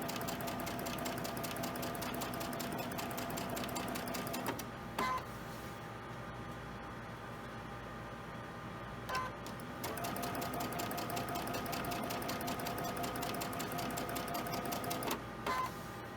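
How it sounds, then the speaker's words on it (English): Close, rapid whirring rattle of a sewing machine chain stitching unpinned quilt pieces in long bursts, with brief pauses between runs and a few faint clicks. "This is chain stitching them."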